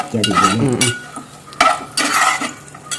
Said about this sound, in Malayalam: അപ്പോൾ ആ ഒരു രീതിയിൽ നമുക്കിത് ഒന്ന് ഫ്രൈ ആക്കി എടുക്കാം